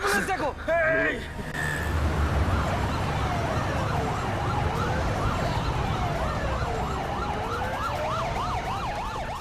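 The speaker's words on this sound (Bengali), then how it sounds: "অ্যাম্বুলেন্স, অ্যাম্বুলেন্স, এই কেউ অ্যাম্বুলেন্স দেখো।" An ambulance siren wails in repeated rising and falling sweeps, moving through the scene over a road-traffic background, with a raised voice at the start and urgent talk over it.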